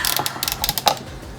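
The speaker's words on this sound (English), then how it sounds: "And then clamp it." PEX pipe clamp crimped with a clamping tool: a quick series of close mechanical ratcheting clicks, fading after about a second.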